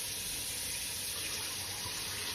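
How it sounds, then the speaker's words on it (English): Tap water runs steadily into a sink to rinse rice in a home kitchen, a continuous gentle splashing hiss with no talk over it. "We want the water to be clear on our rice."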